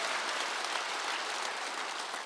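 A church congregation at a Wednesday worship service breaks into dense, even applause, with many hands clapping together at close range and no talking over it.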